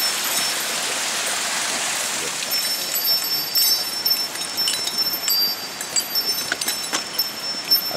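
Rushing water from a waterfall or stream beside a mountain trail in Japan, a steady broadband roar heard close and continuous, with faint clicks and movement over it.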